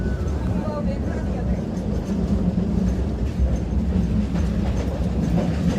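A passenger train carriage in Bangladesh rattles and shakes on the rails, a loud, steady rumble with clattering wheel noise continuing throughout.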